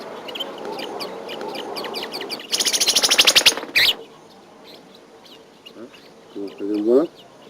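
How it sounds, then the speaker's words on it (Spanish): Wild birds chirp at sunrise in an outdoor trapping setting, with scattered tweets, a loud burst of rapid trilling song, and later some squawking fowl-like calls, fairly close and unaccompanied by talk. "la actividad de los pájaros está en su momento más intenso"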